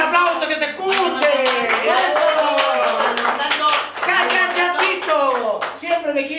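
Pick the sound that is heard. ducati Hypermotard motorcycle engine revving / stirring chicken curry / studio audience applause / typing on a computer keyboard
studio audience applause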